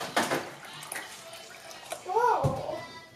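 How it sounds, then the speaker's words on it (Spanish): Water poured into a well in flour for tortilla dough, a splashy trickle rising briefly near the end, with a voice and someone talking over it. "Vamos a irle añadiendo el agua."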